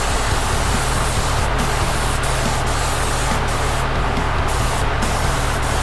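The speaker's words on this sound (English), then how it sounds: "I'm just gonna give me a tack coat, which is basically half to 3/4 of a regular coat" Spray gun laying a light tack coat onto the headstock of an ESP LTD MH-100QMNT guitar during refinishing, a steady loud hiss running unbroken throughout.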